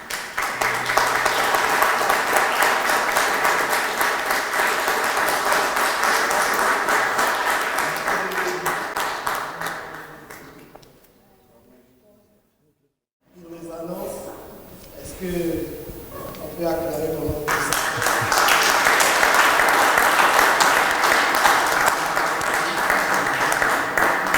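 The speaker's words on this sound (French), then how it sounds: "Il y a trop d'acclamations ce matin." A church congregation bursts into sustained applause and cheering, loud and dense, cutting out to near silence mid-way, then a few voices speak before the clapping and acclamation swell back up to full strength.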